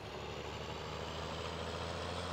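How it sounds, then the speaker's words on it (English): A slow tractor engine runs steadily in Farming Simulator 17, a low, even droning hum that holds unchanged throughout. "Oh yeah, I forgot, this is not a very quick tractor"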